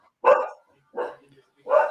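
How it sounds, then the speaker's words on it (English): A dog barking three times in a steady rhythm, close and fairly loud, each bark short and separated by brief silence. "we got a dog that's just mad"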